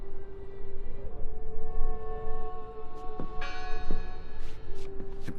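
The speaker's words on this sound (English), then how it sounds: "It must be her ringing the bell." A bell tolls inside the video game Draugen, a sustained ringing tone with several sharper strikes and shimmering overtones over a low ambient background, no voices.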